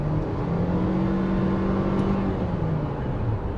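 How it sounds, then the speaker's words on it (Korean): A Renault QM6 with a petrol engine hums as it re-accelerates, heard from inside the cabin as a steady low droning whir that rises gently in pitch, continuous and moderately loud with no talk. "지금 이렇게 다시 재가속할 때도 보면 엔진음이 아까 LP보다는 훨씬 더 살아있죠"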